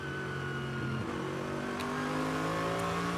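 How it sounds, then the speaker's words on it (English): The Get Speed Mercedes-AMG GT3 race car's engine drones steadily throughout at the Nürburgring during a six-hour race, a continuous harmonic roar that shifts pitch as it revs, moderately distant. "the engine noise you can hear in the background is that of the Get Speed AMG GT3."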